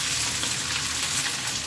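Sabudana with spices roasting in a pan for vrat khichdi, giving a steady, soft, close sizzle and frying hiss that runs without a break.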